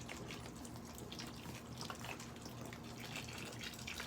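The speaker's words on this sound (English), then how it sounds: "So I pour some water in it" Water poured onto vermiculite in a container while starting fall seeds, a steady close wash of trickling, dripping liquid over a low background hum, with no talking.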